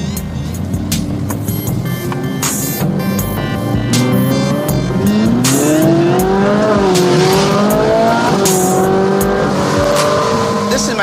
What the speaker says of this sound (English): This is my commuter car, so I drive it every day to work.